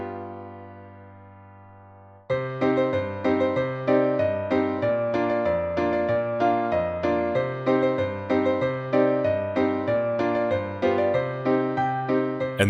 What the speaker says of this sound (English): when you add in the melody over the chord progression, you now have a completed sea shanty.